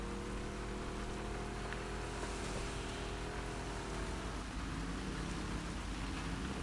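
Steady rainfall in the video game The Last of Us Part 2, a constant dense hiss of rain on surfaces with faint low rumbling beneath, continuous and even throughout with no voices.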